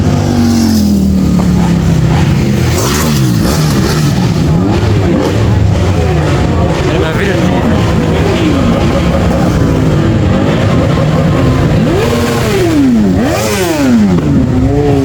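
Engines revving hard at a car meet, with repeated rising and falling howls and roars overlapping near and loud against a constant crowd din.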